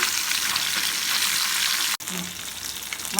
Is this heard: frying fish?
yes